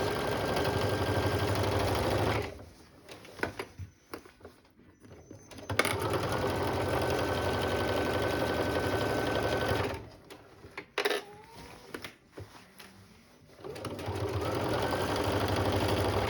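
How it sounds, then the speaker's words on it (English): A sewing machine back stitches a quarter-inch seam, running in three loud, steady bursts of motor whir separated by short pauses filled with handling clicks and rustling. "We're going to back stitch, and we're stitching this a 1/4 inch now."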